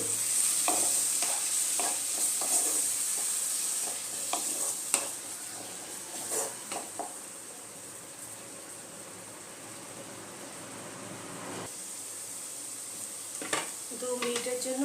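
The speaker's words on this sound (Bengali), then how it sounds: "ভালো মতো মিশিয়ে নেব।" Chicken curry is stirred in a sizzling pan, with a spoon scraping and knocking at intervals over a steady frying hiss throughout.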